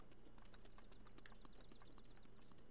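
Horse hooves clopping in the video game Breath of the Wild, a quick steady run of galloping beats alongside a chirping tone and constant game background sound.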